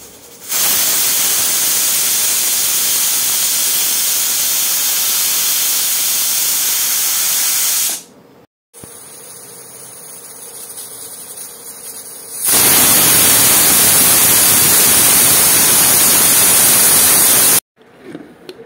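A loud, steady steam hiss from a pressure cooker whistling on the stove, a long continuous blast, then a quieter stretch, then another loud hissing burst, with no talk.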